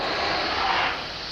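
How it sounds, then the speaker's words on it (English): Dassault Mirage 2000D jets of the French Air Force's Couteau Delta team roar past during an air show flying display, a loud broadband jet rush that holds steady then eases slightly. "Still not over in the flying display with their Couteau Delta team of the magnificent Mirage 2000Ds."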